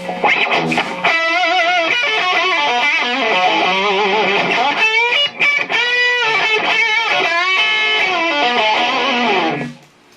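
An electric guitar plays a distorted lead line through a Blackstar HT100H amplifier's lead channel, loud and continuous with sustained bending notes for about ten seconds before cutting off.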